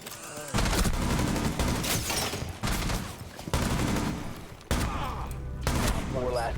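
Rapid gunfire in the tactical shooter Rainbow Six Siege, several loud bursts of shots in quick succession separated by short gaps, with a player speaking faintly between them.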